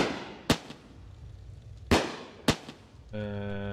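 Three sharp firework-missile detonations from the missile mod in the video game Fireworks Mania, spaced unevenly over a few seconds, followed by a sustained harmonic tone that rises in at the end.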